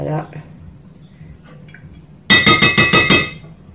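Beignet dough ingredients being mixed in a bowl, starting with soft stirring and then a burst of quick rhythmic clinks of a utensil against the bowl, close and fairly loud, with a voice speaking early on.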